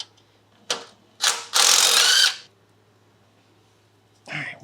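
A ratchet fitted with a 13mm deep well socket works loose the alternator bolts on a second-generation Ford Explorer, giving a few short clicking bursts and one longer rapid ratcheting run, close up, with pauses between.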